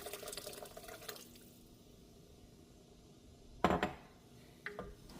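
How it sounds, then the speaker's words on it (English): Water being poured into a cooking pot of broth for a ground beef and bean dinner, a soft steady splashing stream at close range, with a couple of sharp clinks of metal or utensils against the pot near the end. "I have water, so that's what I'm going to add."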